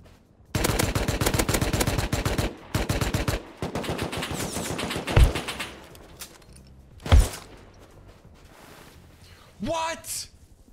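Rapid automatic gunfire in the survival game Rust during a base raid, long loud bursts of machine-gun fire broken by pauses, a couple of heavy single thumps, then quieter shuffling near the end.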